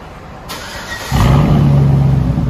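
A 2009 Chevy Suburban 5.3L V8 with straight-pipe exhaust cranks and fires up after a brief hiss, settling into a loud, deep, steady rumble close by.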